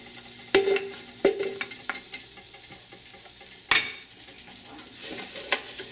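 Four tablespoons of butter melt in a warmed pot with a faint sizzle, punctuated by several sharp, close clanks of a utensil against the pot and a few lighter taps.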